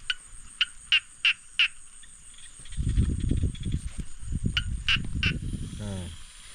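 Frogs croak in a rice-field area during heavy rain; a series of sharp clicking calls comes first, then a dense, loud chorus of low croaks swells and churns, ending in a rapid ratcheting call.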